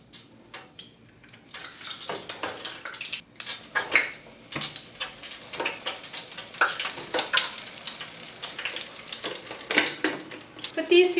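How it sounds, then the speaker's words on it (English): Steady crackling sizzle of chicken deep frying in 375-degree oil in a Presto stainless steel immersion-element deep fryer, with occasional clinks and stirring noises over the bubbling. "I'm frying these at 375 degrees."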